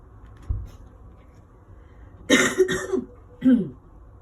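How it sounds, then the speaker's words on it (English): A low thump, then a couple of quick, harsh coughs close by, followed by one more short cough, with no talk. "that's then when I needed to cough, but breathless"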